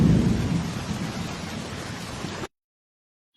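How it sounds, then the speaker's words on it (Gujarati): Heavy monsoon rain pours steadily with deep rolling thunder, loud and close, a continuous dense roar that cuts off abruptly into silence. "અત્યારે જે વરસાદ પડી રહ્યો છે"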